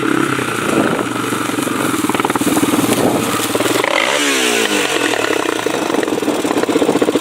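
Honda TRX400EX ATV engine running close by with a steady, loud clattering idle, a brief rev near the middle, and a faint whine riding over the engine throughout.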